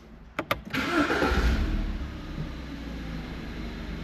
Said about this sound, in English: Start the engine for 15 minutes.